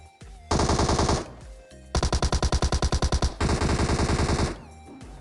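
Video game gunfire comes as three loud, close bursts of rapid automatic shots, the middle one a distinct rhythmic rattle of separate rounds, with short pauses between bursts and no talking.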